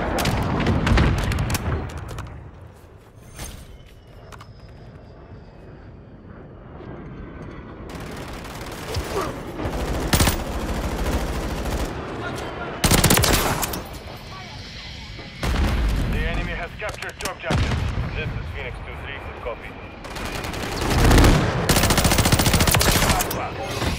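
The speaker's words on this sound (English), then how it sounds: "I'm taking fire." Gunfire in a Call of Duty Modern Warfare III multiplayer match: loud bursts of automatic fire and heavy shots come in repeated volleys separated by quieter gaps, with game voices talking in between.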